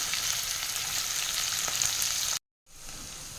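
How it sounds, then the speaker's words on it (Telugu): Chopped onions sizzle steadily in a hot pan as they are stirred, a loud, bright, continuous frying hiss. It cuts out abruptly near the end, then resumes more quietly. "ఈ తరిగిన ఉల్లిపాయలు వేసేసుకుందాం. ఒక రోస్టెడ్ బ్రౌన్ వచ్చే వరకు ఈ ఉల్లిపాయలను కలుపుదాం."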